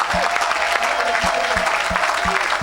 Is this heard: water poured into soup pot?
no